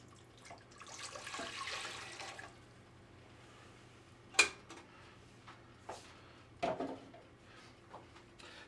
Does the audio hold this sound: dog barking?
no